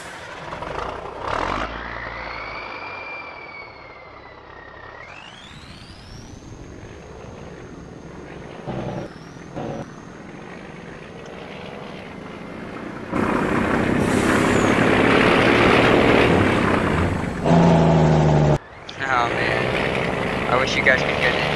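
Pickup truck engine in the Farming Simulator video game, a steady droning motor that rises and shifts pitch, growing louder in the second half, with someone talking over it at times.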